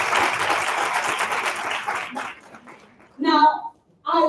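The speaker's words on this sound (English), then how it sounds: "Let's give them a final round of applause." An audience applauds panelists at a live event: dense, steady clapping for about two seconds that then thins and fades out, followed by a voice speaking in short bursts.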